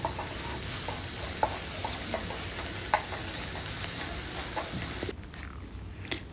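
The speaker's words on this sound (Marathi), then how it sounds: "चांगलं मिक्स करून घ्यायचं आहे आपल्याला" Garlic, ginger and onion sizzle steadily in a hot pan while a spoon stirs them with occasional sharp taps against the metal; the frying hiss drops away abruptly near the end.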